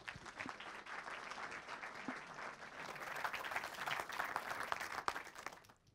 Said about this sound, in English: let's give Tom a big traditional round of applause